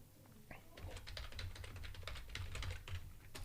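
Quiet, close computer keyboard typing as a username is entered, a quick irregular run of soft key clicks with brief pauses, under a low background hum.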